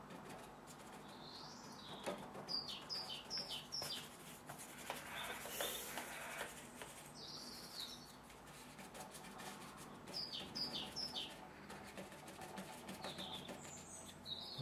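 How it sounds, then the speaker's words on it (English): Faint birdsong drifts in from a distance in brief repeated chirps, under a quiet hiss of background noise and soft rubbing nearby. "I like to listen to the birds."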